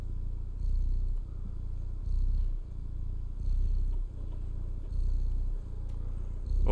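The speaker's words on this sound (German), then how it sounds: "Also der Controller, der schnurrt." Steady cat purring from the video game Stray, rumbling through a controller's vibration, with rhythmic breathing swells repeating about every second and a half, close and continuous with no talk.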